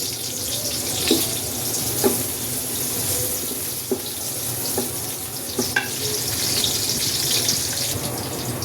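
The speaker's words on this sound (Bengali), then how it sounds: "পেঁয়াজটা আমার হালকা ভাজা হয়ে গেছে।" Onions fry in a pan for winter vegetable pulao, with a continuous close sizzle and several light spoon taps and scrapes spread through the stir-frying. No one speaks.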